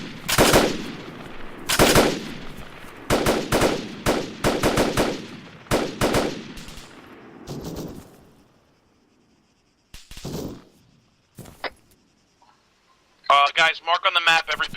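Gunfire during platoon training, a series of sharp close rifle shots in uneven bursts, then sparse distant shots, with a voice speaking near the end.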